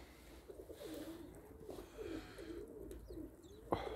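Pigeons cooing in a loft, soft repeated low coos rising and falling over faint background noise, with a sharp click near the end.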